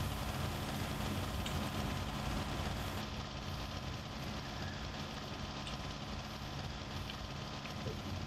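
A T-25 tractor engine runs steadily while baling hay in the Farming Simulator 19 video game, giving a constant low, rumbling drone with no breaks throughout.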